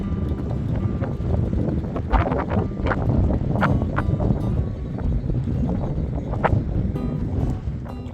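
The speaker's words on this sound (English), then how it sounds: "It's a tad windy." Strong coastal wind between Weston-super-Mare and Portishead buffets the microphone in loud, rumbling gusts, with sharp bursts of blustery noise rising and falling throughout, no voices heard.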